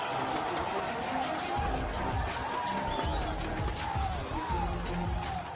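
Esports arena crowd at a Call of Duty match roars and cheers after a map win, a loud continuous wall of voices with rising shouts sustained throughout.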